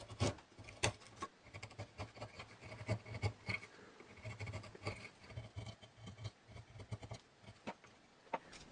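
A wooden dowel carved out by hand with a blade, giving quiet irregular scraping and shaving strokes with small taps, close and soft, no voices.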